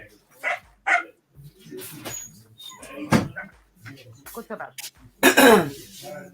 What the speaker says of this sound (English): Tell your dog to shut up.